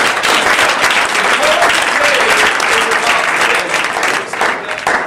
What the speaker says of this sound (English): So let's give him a little round of applause,